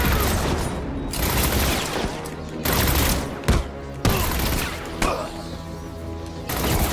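Enemy gunfire in the Batman: Arkham City video game, with dense bursts of shots and crashing impacts that come in loud waves and break off abruptly several times.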